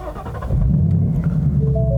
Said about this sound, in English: you have a V8 Mustang with that very traditional V8 Mustang-like growl